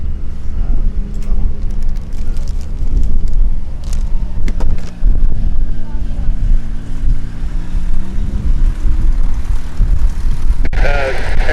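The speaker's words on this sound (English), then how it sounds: "Aircraft just turned to final there" Piston aircraft engine drones steadily at a distance as a plane turns onto final approach at Oshkosh AirVenture, a low continuous hum with a rising and falling engine tone, under radio-style controller talk.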